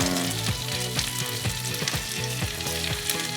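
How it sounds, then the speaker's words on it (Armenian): Lemon being fried in sunflower oil in a kitchen for an asparagus salad, a steady crackling sizzle with regular rhythmic stirring or scraping strokes repeating about every half second. "հետո տապակում ենք արևածաղկի յուղով"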